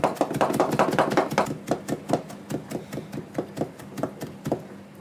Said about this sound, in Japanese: こんな感じでみじん切りにしましたと